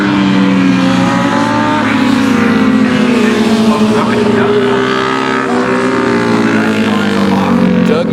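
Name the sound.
racing motorcycle accelerating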